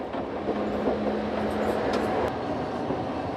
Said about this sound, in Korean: 흔들거리며 도심을 천천히 지나가는 것이 마치 완행열차를 타는 것 같다고나 할까요?